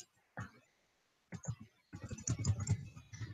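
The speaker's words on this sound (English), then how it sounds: "let's see how my typing skills are" Quick bursts of clicking keys on a computer keyboard, close and fairly quiet, starting and stopping in short runs, from someone typing geometry notes about the mid-segment of a triangle.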